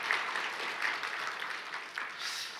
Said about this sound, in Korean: 우리 격려와 축복의 박수 한번 하겠습니다